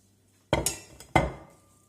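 Chopped onion tipped from a bowl into another bowl, heard as two sharp, close clinking knocks about half a second apart, each ringing off briefly against quiet.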